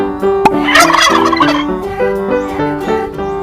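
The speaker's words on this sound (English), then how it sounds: "Turkey." A turkey gobbles loudly over upbeat children's music, with a burst of rapid gobbling calls near the start and no talking.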